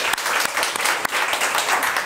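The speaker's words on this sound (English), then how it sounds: "You can clap for it." An audience at a school gathering breaks into loud, close applause, a dense wash of clapping with a few sharper individual claps standing out.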